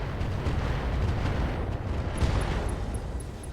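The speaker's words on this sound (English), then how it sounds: "Slug ammo explosion." A slug ammunition explosion in the RogueTech mech combat game gives a dense, sustained rumbling roar that stays loud and even, with faint high electronic beeps near the end.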